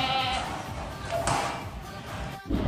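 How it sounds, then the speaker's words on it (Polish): Goats bleating inside a large goat barn, a few nearby bleats over a muffled background of shuffling and thumps, with people talking at times. "Kózki."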